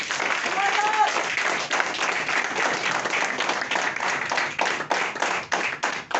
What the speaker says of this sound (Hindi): एक बार जोरदार ताली मारो सारे लोग।